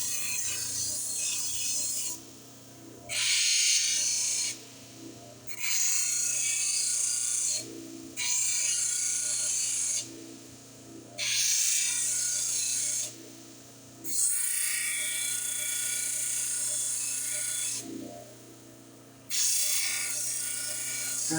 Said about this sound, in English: Grind the edges.